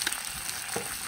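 Doubanjiang chili bean paste stir-fried in hot oil for homestyle tofu, a brief, dense sizzle with light stirring scrapes, close and continuous.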